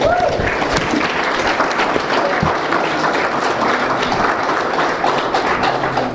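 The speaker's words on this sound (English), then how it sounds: "Another round of applause for the Omaha 54." Sustained applause from a large crowd, dense clapping filling the whole stretch at a steady, loud level without letting up.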